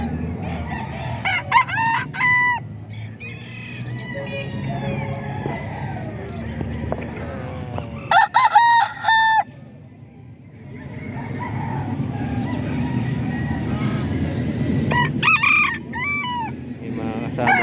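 An 11-month-old rooster crows three times at a market in Baliwag, Bulacan. Each crow is loud and close, and between them a constant low hum of traffic and background bustle continues.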